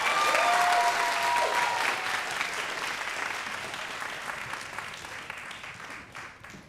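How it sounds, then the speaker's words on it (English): Audience applause at a 2022 choir concert: a dense, sustained round of clapping that starts loud and slowly thins and fades toward the end. "So let's just have another round of applause for Wa Bulan."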